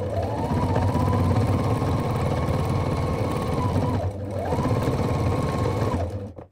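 A sewing machine stitching upholstery fabric for a boat chair runs loud and close in two long continuous bursts, with a brief pause near the middle before it stops.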